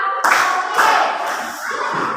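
Schoolchildren in a primary classroom clapping hands together on a teacher's count, a few sharp unified claps spaced across a short stretch, close and loud with a voice between.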